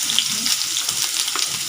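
Chopped onions drop into hot refined oil and fry with a loud, dense sizzle that stays close and steady the whole time.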